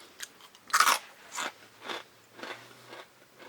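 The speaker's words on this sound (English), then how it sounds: "Okay, great crunch on the 3 minute there." Crispy fried squid snack bitten and chewed up close, one loud crunching bite followed by several softer rhythmic crunches as it is chewed, with no talking.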